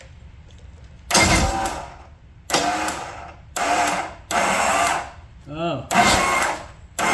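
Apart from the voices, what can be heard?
Johnson GT 200 outboard starter cranking with a stripped gear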